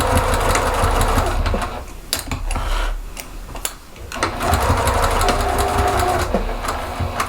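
Sewing machine stitching a weighted minky fabric heart, a steady mechanical whir running close and loud, dipping briefly at a pivot with the needle down before resuming its even stitching rhythm.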